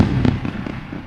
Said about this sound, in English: Let's go for a round of fireworks.